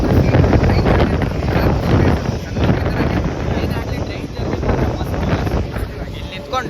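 Wind roars and buffets loudly and continuously at an open train door during a moving journey, a harsh close rushing noise that never lets up.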